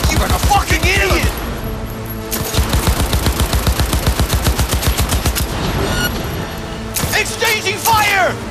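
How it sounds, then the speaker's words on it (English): Cyberpunk 2077 firefight with rapid automatic gunfire in a long, steady burst of evenly spaced shots, loud and close, with shouted speech at the start and end. "Exchanging fire!"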